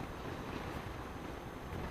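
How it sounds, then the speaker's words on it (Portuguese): Steady roaring wind noise fills a Caberg motorcycle helmet while riding, a dense continuous rush with no breaks and no voices. "ele é muito barulhento. Nossa, é muito vento na orelha"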